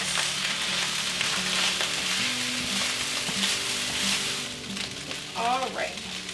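Rice with soy sauce being stir-fried in a pan, a steady close sizzle with scraping stirs, a brief voice murmuring near the end.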